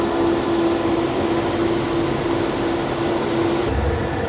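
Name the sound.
train riding, rocking railroad car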